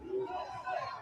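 A crowd in Harlem shouts and cheers for President Trump as his motorcade passes, heard as a brief, fairly faint roar of many voices lasting about a second.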